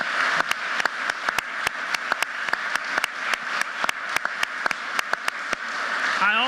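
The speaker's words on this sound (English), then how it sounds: "Let's give them a round of applause." Audience applause at a university civic leadership announcement event: a steady wash of clapping with sharp individual claps standing out, moderately loud and continuous throughout.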